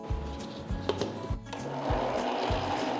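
A mixer grinder churns cooked rice, salt and wheat flour for chapati dough, a rough whirring grind with irregular knocks and thumps that settles into a steadier, louder buzz, with no voice over it.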